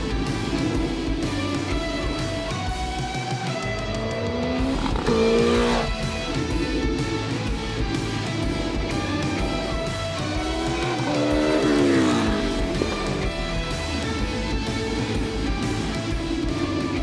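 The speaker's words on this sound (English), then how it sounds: "we're gonna take the Sierra Car Alpha out for a spin" Sierra Car Alpha race car being prepared for Pikes Peak, driving during a testing day at NCM, with a steady loud engine drone and two rising pitch sweeps as it accelerates and passes, no talking.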